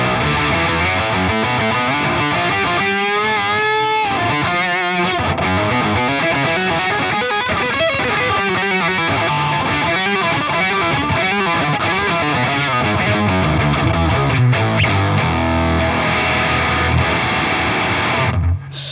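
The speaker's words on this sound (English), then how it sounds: "Bring the higher octave in." Electric guitar played through an MXR Slash Octave Fuzz pedal with the higher octave blended in, a loud, continuous, buzzing distorted tone with sustained chords and riffs throughout, no talking.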